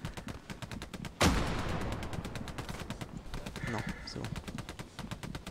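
Gunfire in the World War II shooter Hell Let Loose: rapid, regular automatic shots close by, with one sharp louder crack, while someone talks briefly over the firing.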